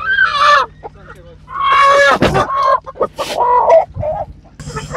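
Native country chickens (nati koli) cluck and squawk close by in a series of loud, uneven calls over a low steady hum, one call rising almost to a crow.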